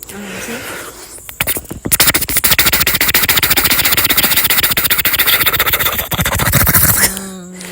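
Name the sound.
voice imitating a helicopter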